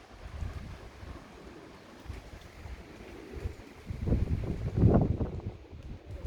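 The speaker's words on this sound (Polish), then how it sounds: "Za mocno wieje, nienawidzę tego wiatru już." Gusty wind buffets the microphone with low rumbling roars, swelling louder toward the end, with no voices present.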